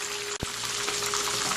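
Parrot fish fries in hot oil in a Jamaican home kitchen, a loud, steady close-up sizzle and crackle throughout, broken once by a brief thud, with no talking.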